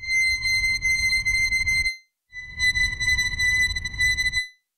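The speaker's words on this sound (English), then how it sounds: "we can hear a lot of that low frequency noise poking through." High notes from a Surge XT physical-modelling bowed-string synth patch, two sustained tones separated by a short gap, each with a steady wash of low-frequency noise rumbling underneath.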